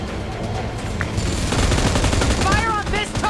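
Rapid bursts of video game gunfire crackle close and loud, mixed with game sound effects and faint chirps near the end, with no one speaking.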